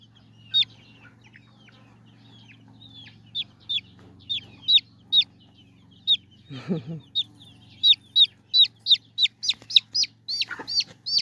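A rooster makes a rapid series of short clucks that grow denser toward the end, with a brief low rustle in the middle.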